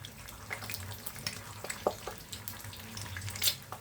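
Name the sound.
eggs with Maggi masala being scrambled in a pan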